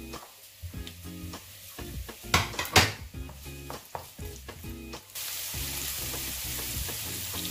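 Onion, ginger, garlic and green chillies sauté in a pan for a chicken roll curry, giving a steady frying sizzle with scattered stirring clinks. The sizzle swells louder and more continuous in the last few seconds, with no voices.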